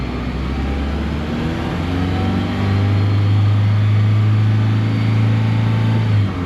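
A Honda Element engine revs during a VTEC test, a close, steady mechanical drone that swells and holds a raised pitch for a few seconds before dropping away.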